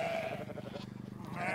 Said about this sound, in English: Let's get some sheep in.